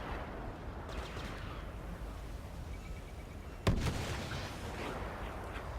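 A grenade detonates during a 2v2 competitive video game match: one sharp, punchy blast partway through, with a short rumbling tail over steady background game noise.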